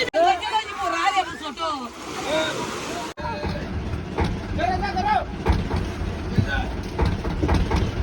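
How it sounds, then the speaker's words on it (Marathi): A passenger boat pulls in at the Arnala Fort jetty in Virar. An engine rumbles and water sloshes beneath the chatter of a waiting crowd, with voices calling out close by. "आणि आता इथे बोट आलेली आहे."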